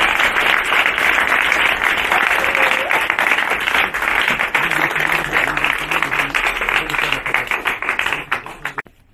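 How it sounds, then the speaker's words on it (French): A crowd applauding at a ceremonial visit by a prefect and mayor in Congo, loud dense clapping that holds steady for several seconds and then tapers off at the end. "Veuillez acclamer pour lui, s'il vous plaît."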